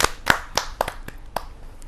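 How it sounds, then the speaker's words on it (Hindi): Sparse applause at a Hindi kavi sammelan welcoming a woman poet onto the stage: a handful of distinct claps spread over under two seconds, fairly close and uneven rather than a full crowd ovation. "जोरदार ताली के साथ हम उनका स्वागत करें।"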